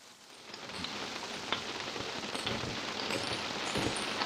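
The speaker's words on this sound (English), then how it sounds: "Listen to that rain." Steady rain patters on a greenhouse, a dense, continuous wash of drops with occasional sharper taps, close and fairly loud with no talking.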